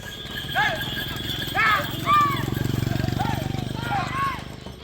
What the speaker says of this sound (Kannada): ಎತ್ತಿನ ಬಂಡಿಯಲ್ಲಿ ಜನರು ಧಾವಿಸಿ ಬರ್ತಾ ಇರೋದು